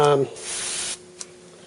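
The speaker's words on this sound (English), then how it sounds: "metallic craft paint is lousy, and this is just to reinforce everyone. It is spraying" Metallic craft spray paint sprayed from a can onto a hobby paint rack: a single steady hiss lasting about half a second, followed by a faint short tap in the quiet.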